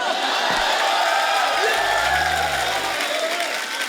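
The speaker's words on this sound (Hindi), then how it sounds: "आप सबकी जोरदार तालियों के बीच में जबरिया जोड़ी की लीड स्टार कास्ट को यहाँ पे इनवाइट करना चाहूंगा" Studio audience at a Hindi comedy talk show applauds and cheers loudly, a dense steady roar of clapping and whoops running throughout, while a low hum sweeps briefly underneath.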